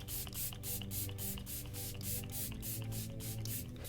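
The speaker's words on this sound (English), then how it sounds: "seal the deal with the Makeup Perfecting Setting Spray" Makeup perfecting setting spray hisses out in a rapid series of short, close bursts, about a dozen quick pumps in steady rhythm.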